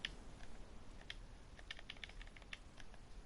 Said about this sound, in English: it's very clicky, this controller